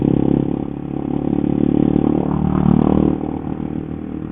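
Honda CBR 150R K45 sport motorcycle engine while riding, a steady mid-pitched drone with rising and easing revs and a rough, buzzing texture running continuously throughout.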